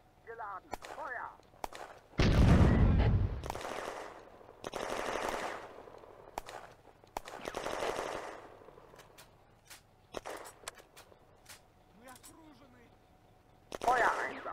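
A tank cannon fires high-explosive shells in a video game set on the eastern front in June 1941, with loud booming blasts spaced several seconds apart and crew voices speaking between the shots.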